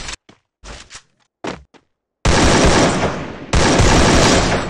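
Loud automatic gunfire in the battle-royale game Free Fire: a few short separate shots, then two long, dense bursts of sustained rapid fire close up.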